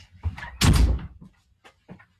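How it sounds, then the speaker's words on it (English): A door closes indoors with one heavy, close thud and a short rattle, followed by faint shuffling and small knocks in a quiet room. "Let me close my door because I'm getting some other noise."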